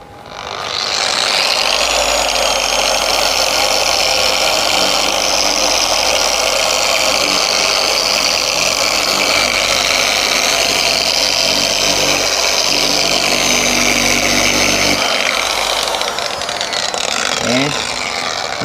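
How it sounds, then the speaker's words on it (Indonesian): A polishing machine sands a yellowed car headlamp, whirring at a steady high pitch for a long stretch, loud and close, then winding down near the end. "habis itu baru kita amplas menggunakan mesin poles"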